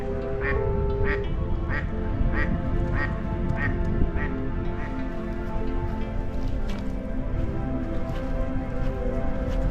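Ducks quacking near a lakeshore by a lighthouse in Wisconsin in the off-season, a steady run of repeated quacks at close range over a constant wash of rain-like background noise, with no talk.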